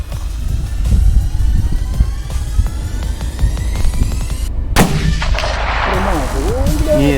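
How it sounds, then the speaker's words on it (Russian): A hunting rifle fired from a tripod during a moose hunt in Belarus goes off as a single sharp, loud crack near the end, with a vehicle-like low rumble and hum running steadily beforehand. "После остановки машины Сергей занял позицию для выстрела с треноги."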